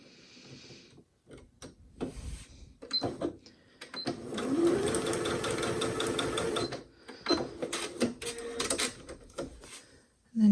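A sewing machine stitches two scrap-fabric pieces right sides together for a crumb quilt, its steady mechanical whir running in several bursts with clicks and handling noises between.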